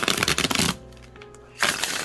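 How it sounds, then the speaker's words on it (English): Cards riffle in a quick rustling burst, then a brief quiet pause, then another flurry of papery shuffling, close up. "I'm going to shuffle for you guys so you guys can see how it shuffles"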